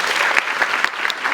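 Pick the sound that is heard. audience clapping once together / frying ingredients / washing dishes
audience clapping once together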